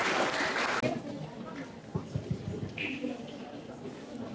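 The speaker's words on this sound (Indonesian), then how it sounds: "mari kita beri tepuk tangan untuk ketiga pertanyaan" Audience applause at a school literacy presentation about a film, a short burst of clapping at the start that quickly fades, followed by scattered murmuring and talk in the room.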